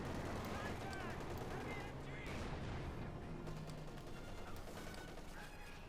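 Gunfire from the real-time strategy game Company of Heroes 2, with dense, continuous battlefield shooting and bursts of weapons fire during a rifleman retreat under fire, with a commentator talking over the action throughout.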